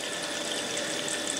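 Mineral water heating to a boil in distillation apparatus gives a steady, even bubbling hiss that runs unbroken and close by, with no voices.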